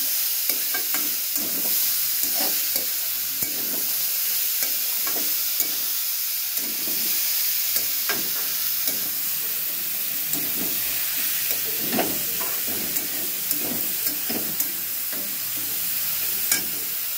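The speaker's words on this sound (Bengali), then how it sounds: "আমের চপগুলো ঢেলে দিলাম। দিয়ে এটাকে গ্যাসটা কম করে এটাকে নাড়তে হবে।" Raw mango pieces for Bengali mango pickle are stirred in a pan over a low gas flame, with steady close sizzling and hissing broken by repeated scraping strokes of the spoon. No one speaks.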